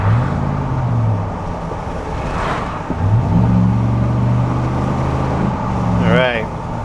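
Car engine running through a test drive after repairs for a no-start, lean condition on both banks, a crank sensor and EVAP codes; steady close engine drone with pitch rising and falling as it accelerates and shifts, plus a brief high warble near the end.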